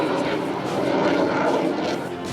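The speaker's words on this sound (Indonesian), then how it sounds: "Gemuruh mesin pesawat tempur sempat menggetarkan" A loud, steady roar from an EMB 314 Super Tucano fighter plane's engine as it lands on an asphalt toll road, a continuous broad rumble holding close and strong throughout.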